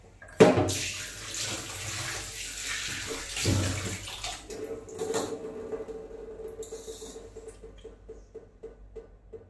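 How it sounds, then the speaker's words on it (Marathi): Water running from a tap while mackerel fish are washed for a Konkan-style fish curry, a close splashing stream with clatter near the start that gradually tapers into softer trickling and drips. "मी आता आधी हे स्वच्छ धुवून घेणार आहे"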